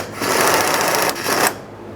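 A 10mm ratchet clicks rapidly as it works a mounting bolt on the fuel tank shield of a 2013-2020 Ford Fusion 2.0L, a close, steady mechanical buzz lasting about a second and a half before stopping.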